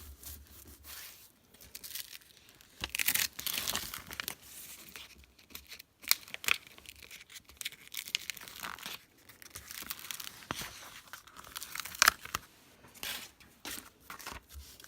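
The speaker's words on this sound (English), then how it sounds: "Then I always fold it back on itself and rub it again." Glitter self-adhesive vinyl being rubbed down onto a transfer sheet by hand, giving close, faint crinkling and scraping rubs in irregular bursts with a few sharper crackles.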